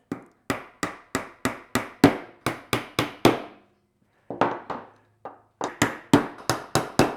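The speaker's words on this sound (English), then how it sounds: "Then we're just gonna put a nail in the bottom and in the top of each corner, like this. Just tap it in." Sharp hammer taps drive nails into the corners of a wooden beehive frame, loud close strikes in quick bursts of four to six with short pauses between groups.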